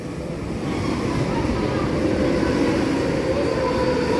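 A loud, continuous rumble and roar of a long train drawing near in France, with rolling wheel noise that builds and holds steady.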